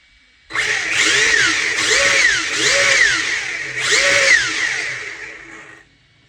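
Electric motor and gear mesh of a nitro-to-electric converted 1/8 scale RC buggy whine loudly alone, rising and falling in pitch in about four revving bursts over several seconds before cutting off.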